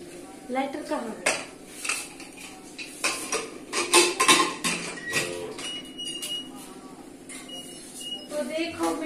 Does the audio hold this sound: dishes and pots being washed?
yes